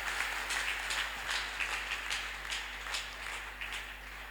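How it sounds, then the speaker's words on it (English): A church congregation claps hands during a Sunday testimony service, rhythmic clapping heard faintly at a distance over a steady low hum. "Let us clap hands for the God of the senior prophet."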